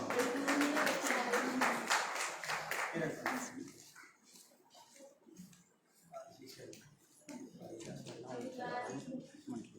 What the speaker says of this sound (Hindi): तालियां बच्चे ऐसे जरूर बजाओ